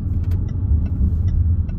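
A car swings into the car park of an ice cream farm in Cheshire, its engine giving a steady, close, low rumble that holds evenly throughout, with faint higher ticks above it.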